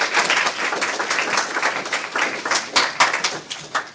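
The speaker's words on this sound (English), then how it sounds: "round of applause." An audience at a summer jobs program event gives a round of applause, a lively, continuous clatter of many hands with uneven surges, fairly close, with no one talking over it.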